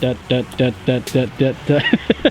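A man vocally imitates the lumpy, loping idle of a Nissan SR20 engine fitted with 272 cams, producing about nine rhythmic throaty pulses that quicken and choke off toward the end, close and alone.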